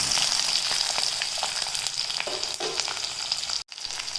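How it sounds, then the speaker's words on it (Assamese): Onion and green chillies fry in hot oil with cumin and black mustard seeds, giving a loud, continuous, dense sizzle and crackle close by, with a brief drop near the end and no talking. "গাইস এই তেলখিনি গৰম হৈ গ'ল মই ইয়াত দিম অলপ জিৰা তাৰ পিছত দিম অলপ সৰিয়হ গুটি কলা সৰিয়হ আৰু লগে লগে দি দিম এই পিয়াজ আৰু জলকীয়াখিনি"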